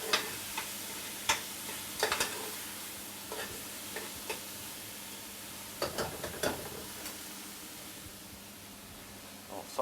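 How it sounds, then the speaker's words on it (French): Onions, garlic and ginger sauté in a pot for a Réunion-style shrimp carry, a steady hiss of frying broken by clicks and scrapes as a spoon stirs the pot. "on fait un peu Revenir les oignons"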